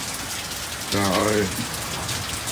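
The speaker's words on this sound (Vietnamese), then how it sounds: "Rồi một trận mưa vậy chứ" Heavy rain pours steadily onto a garden in a dense, continuous hiss, with a man's brief exclamation rising over it midway.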